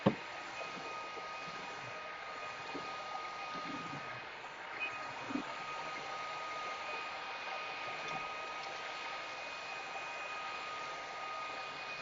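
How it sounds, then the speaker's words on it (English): A cordless vacuum cleaner picks up soil from a floor in a steady, airy whir. The whir holds at a moderate, even level, with occasional faint bumps and a thin high tone running through it. "So it's actually vacuuming up the dirt soil pretty well."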